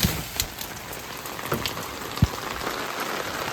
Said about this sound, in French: C'est une journée avec beaucoup de pluie aujourd'hui.